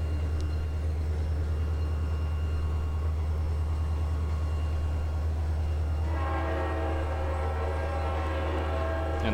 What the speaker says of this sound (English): And the train's loud enough, you can hear everything fine.